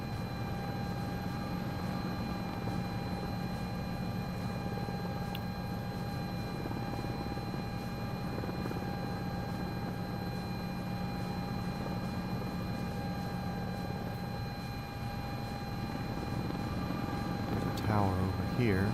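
A Sikorsky S-76 helicopter flying in Microsoft Flight Simulator 2024, heard as a steady, continuous engine and rotor drone with constant tonal whine, running the whole time beneath someone talking.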